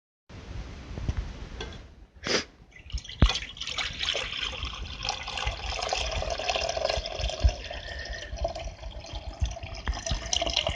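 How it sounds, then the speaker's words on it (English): Nitroglycerin solution being decanted from one container into another, a close, uneven liquid trickle and splash that runs almost continuously with occasional sharper knocks and drips. "I'm just decanting the container that has the nitroglycerin in it right now"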